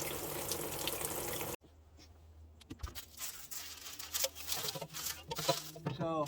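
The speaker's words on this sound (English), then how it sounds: "you can hear that water. There's a broken pipe between the on-off of the shower and the spigot." Water running from a broken pipe between a shower's on-off valve and the spigot, a steady close hiss and trickle after an abrupt cut, with faint splashy patter building toward the end.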